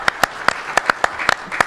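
Sparse applause from a small audience for the panelists at a crime-policy panel discussion, about a dozen distinct sharp claps spread unevenly across the moment, fairly close and moderately loud.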